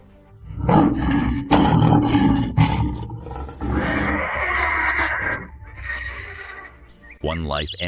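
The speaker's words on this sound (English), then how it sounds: "A roar tears the air." A predator roars during an attack on a zebra herd in the wild, with loud, rough roars and horse-like whinnies in quick succession over rumbling commotion, ending in a sharp squeal.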